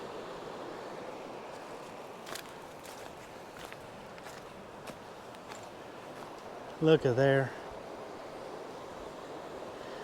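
Chattooga River water flows as a steady broadband wash beside an outdoor hiking trail, continuous throughout, with light footsteps and a brief loud voice speaking near the end.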